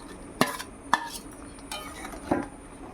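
Pointed gourd pieces and egg white drop into a pan of cooked-down masala, giving a few sharp clinks of metal utensil against the pan with soft scraping between them, close and fairly clear, no talking.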